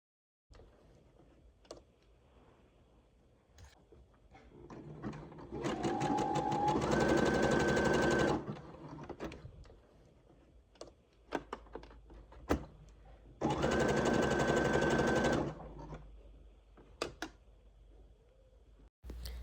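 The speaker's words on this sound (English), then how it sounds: "take it to the sewing machine and top stitch" A sewing machine top stitches a dress in two long bursts of rapid, whirring stitching, with quiet handling noises and clicks in between.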